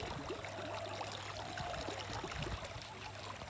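Irrigation water flowing into a rice paddy field, a quiet, steady trickle and gurgle with faint background hum and no talk.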